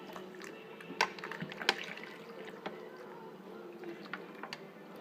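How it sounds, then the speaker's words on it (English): Water pours through a Mr Funnel fuel filter funnel, giving faint, quiet trickling and dripping with a few sharper drops and splashes, and no voices. "All the water passed through."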